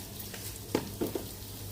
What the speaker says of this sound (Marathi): फोडणीसाठी आपल्याला प्रथम एक चमचा जिरं घालून घेऊया जिरं छान तडतडू देऊया